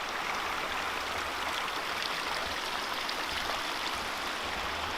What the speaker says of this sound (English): that is flowing water